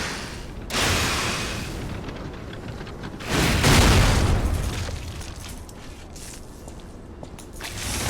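Explosions burst in the video game Lies of P: two heavy, booming blasts a few seconds apart, each fading into a rumbling tail over steady background noise.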